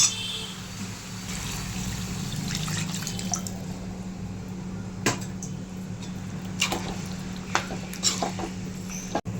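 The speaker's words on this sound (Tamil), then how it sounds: "இப்போ நம்ம அதில் தேவையான அளவுக்கு தண்ணி ஊற்றிக்கணும்" Water pours steadily into a pot of pepper chicken gravy for several seconds, a continuous splashing wash with a few clinks and knocks of cookware, close by.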